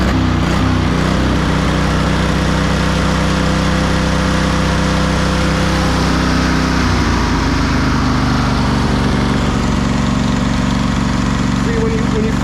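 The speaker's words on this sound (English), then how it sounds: "when you first go down on the throttle, the idle is too high" A 2004 Craftsman DLT3000 lawn tractor engine runs at a high idle, a loud steady drone close by, dipping briefly partway through before settling at a slightly different pitch.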